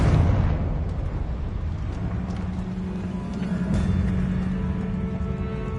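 Confringo fire curse bursting in Hogwarts Legacy, a loud rumbling blast that opens the stretch and then rolls on as a sustained low roar with faint crackles and a brief tonal whine partway through.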